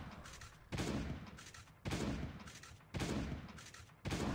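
Four loud, sustained bursts of gunfire in the video game Last Day on Earth: Survival at regular intervals, each a harsh crackling blast cut by short gaps, close and with no talking.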